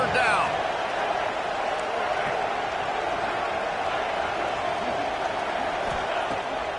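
A dense, steady roar from a packed stadium crowd at a college football game between Tennessee and Texas Tech fills the whole stretch, loud and continuous, with a commentator speaking over it.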